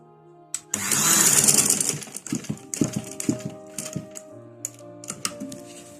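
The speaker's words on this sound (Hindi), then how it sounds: "अब बिल्कुल बुकरम के साथ साथ आप सिलाई लगाएंगे यहाँ से, इस तरह ऐसे कपड़े को आगे मूव करते जाएंगे यहाँ से।" Sewing machine stitching cloth along buckram for a kurta, a loud continuous whirring run followed by short uneven bursts of stitching and mechanical clicks, close up with no talking.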